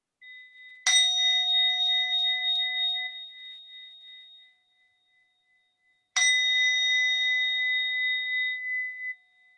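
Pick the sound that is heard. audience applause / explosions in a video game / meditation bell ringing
meditation bell ringing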